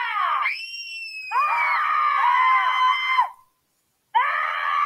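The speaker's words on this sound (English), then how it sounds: "I can scream too." A person screams in long, loud, strained bursts, a short high cry followed by a sustained shriek, then a brief silence and another scream starting up, close and alone with no other talk.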